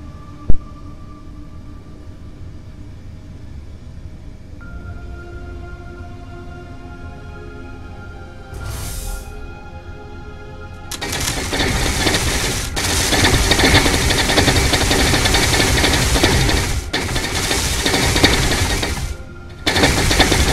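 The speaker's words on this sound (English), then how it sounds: "hit assemble, you can hear the alarm go off. The lights flash, and the welders come down." Modular ship assembler in Space Engineers starting up: a quiet tonal alarm hum builds, then from the midpoint loud dense mechanical clatter and grinding of welders fills the sound, continuous with brief dropouts near the end.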